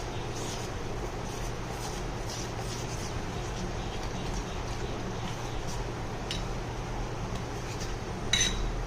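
Sago pearls with rock salt in a bowl as about one and a half cups of buttermilk is stirred in by hand, giving soft wet mixing with light spoon-against-dish clinks over a steady kitchen background, no talking.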